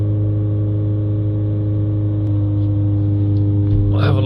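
A van engine is held steady at just over 3000 RPM, producing a loud, constant droning hum with a strong, unchanging pitch and a slight rustle near the end.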